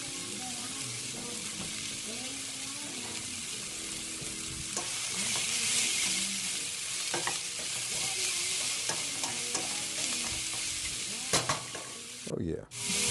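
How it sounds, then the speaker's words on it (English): Mushrooms and onions sweating in a pan after Salisbury steak, a continuous soft sizzle with intermittent stirring scrapes and light utensil knocks, fairly quiet and close, a brief clatter near the end. "let that rest while we sweat out these mushrooms and onions"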